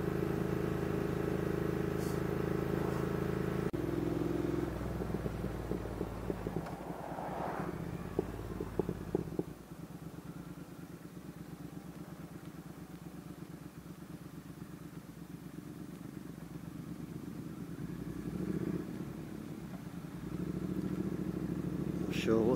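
Triumph and BMW motorcycles ride together on an outing past a market. Steady engine drone and wind roar run close and loud throughout, with the engine note shifting midway and swelling again near the end.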